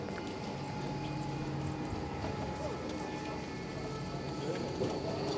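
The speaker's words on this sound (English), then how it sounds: "it's a traffic jam of trams, apparently" Trams crowd a busy Zürich street, rumbling and clacking steadily along the rails with a faint bell-like tone, while people talk nearby.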